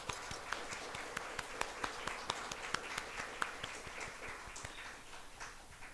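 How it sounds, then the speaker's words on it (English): Faint, distant applause for students at a college event, with scattered sharp individual claps standing out over a steady wash of crowd noise, heard from far back in a large hall. "may we put our hands together for a loud round of applause for our dear students"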